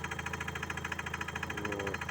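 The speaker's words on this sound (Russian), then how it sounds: "двигатель работает" An Opel Zafira 1.8 engine idles just after a timing belt replacement, giving a close, steady rhythmic clatter with a fast regular pulse and a faint whistle, with no talking.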